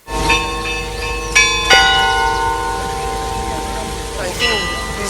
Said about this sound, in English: the last step was to check if it worked on the real hardware, on the real bells